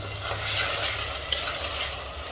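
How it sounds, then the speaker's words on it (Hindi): Masala frying in oil on high flame being stirred, a steady loud sizzle with scraping strokes of the spoon through the pan, close up and without voices. "तो इसे हम हाई फ्लेम पर पकाएंगे घुमाते हुए।"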